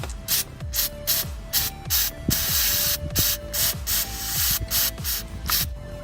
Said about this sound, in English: we're gonna try some of our electromotive cleaner, and we're just gonna spray it off a little bit just to help break it loose